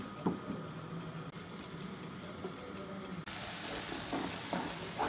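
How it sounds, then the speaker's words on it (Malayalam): Coconut with coriander powder and chilli powder roasting in a pan for a chickpea curry, giving a low, steady sizzle with light patter and occasional stirring scrapes, close and alone with no talking. "ഇപ്പോൾ ഇതിൽ കുറച്ച് തേങ്ങയും കൂടി ഇട്ടിട്ടൊന്ന് ചൂടാക്കിയെടുക്കാം"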